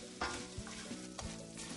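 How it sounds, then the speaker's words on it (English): Burnt walnuts and brown sugar are stirred in a hot pan, giving a soft sizzle with brief scraping sweeps of the spoon, close and quiet. "Stir that in until the brown sugar melts."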